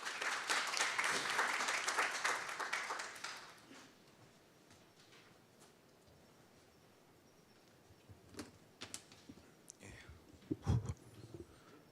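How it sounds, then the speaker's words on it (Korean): An audience at a public-private seminar on transnational fraud applauds loudly to welcome a police presenter. The dense applause lasts about three seconds and then dies away to a quiet room with a few scattered knocks and rustles. "여러분 뜨거운 박수로 맞아주시기 바랍니다"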